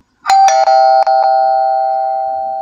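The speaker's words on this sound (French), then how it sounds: "Là, je vais vous mettre la sonnerie de la sonnette 3." AOSU wireless video doorbell chime playing its third ringtone, a loud melodic series of bell-like tones struck in quick succession, then one long ringing note slowly fading, heard alone in a quiet room.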